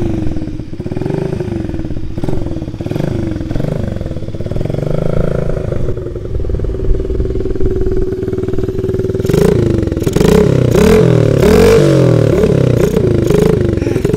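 A small children's motorbike engine starts with sputtering clatter, then settles into a buzzing idle and revs up in repeated loud bursts, heard up close.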